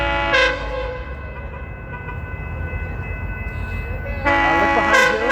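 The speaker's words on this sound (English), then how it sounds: "Yeah, but that's the Amtrak. It's about to pass right by us." An Amtrak train passes at speed, sounding a loud multi-tone horn in a short blast, then a long rumble of the passing train before a second sustained horn blast rings out close by.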